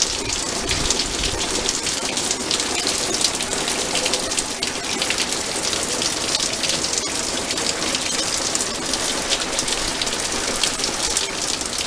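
Steady, dense rain pours outdoors in windy weather, hissing and pattering evenly on surfaces throughout, with no voices.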